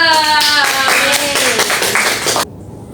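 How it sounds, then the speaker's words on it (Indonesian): Students clap in a classroom at the end of an Indonesian chemistry microteaching lesson on electrolyte and non-electrolyte solutions; a dense, steady round of applause over a teacher's voice, cutting off abruptly near the end. "Beri tepuk tangan untuk kita semua."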